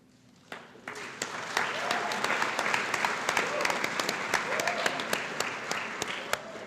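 Applause breaks out at a high school awards night after award winners are named, starting abruptly and holding as a steady crowd clapping with sharp nearby individual claps and a couple of faint voices beneath.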